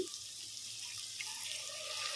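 Water poured from a vessel into a pan of potato curry on the stove, a steady, soft splashing trickle that runs continuously at close range with no voices.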